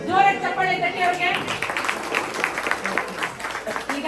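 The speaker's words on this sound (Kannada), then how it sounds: "ಜೋರಾಗಿ ಚಪ್ಪಾಳೆ ತಟ್ಟಿ ಅವ್ರಿಗೆ" Audience applause for a quiz team answering questions, a short burst of clapping under a speaking voice that fades out over a few seconds.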